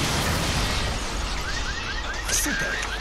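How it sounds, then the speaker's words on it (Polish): Cars blowing up in the video game inFAMOUS: a loud, dense rumbling blast with crackling debris fills the whole stretch, while a series of short whistling sweeps rises repeatedly in the second half. "Przynajmniej dla mnie te samochody jakoś ładnie wybuchają."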